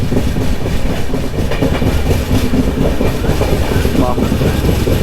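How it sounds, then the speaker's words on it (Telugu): The Kerala Superfast Express rumbles steadily along the tracks after leaving Tenali, a dense, continuous low roar with rhythmic wheel clatter, heard from close inside. "సో తెనాలి నుంచి అయితే మన ట్రైన్ స్టార్ట్ అయిపోయింది"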